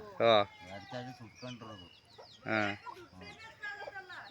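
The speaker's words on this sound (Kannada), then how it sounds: "ಏನು ಕೋಳಿಗಳನ್ನೆಲ್ಲ ಜೊತೆಲೆ ಕೂರ್ಸ್ಕೊಬಿಟ್ಟಿದ್ರೆ" Chickens cluck close by in a rural shepherd community's yard. Several loud, sharp squawks stand out among softer, irregular clucking calls.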